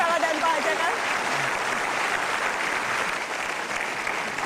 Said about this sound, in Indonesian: Sekali lagi tepuk tangan Pak Yusuf Kalla dan Pak JK.